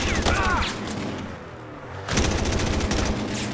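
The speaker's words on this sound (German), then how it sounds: "wo kommen die anderen Schüsse her" Rapid bursts of gunfire in Battlefield Hardline, loud and dense at first, easing off briefly, then resuming in another heavy volley.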